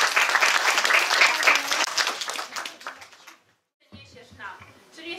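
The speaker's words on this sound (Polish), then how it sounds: "Brawa wielkie!" Lively applause from families at a children's meeting with Santa Claus, dense clapping that fades out after about three seconds, then a brief silence before voices start up.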